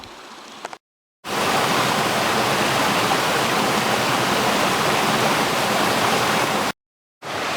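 Along a forest trail in Roaring Run Natural Area, Forbes State Forest, a stream rushes loudly and constantly in a dense wash of water noise, cut briefly by two silent gaps.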